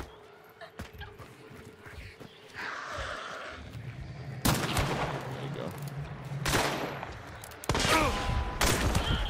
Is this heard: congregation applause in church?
no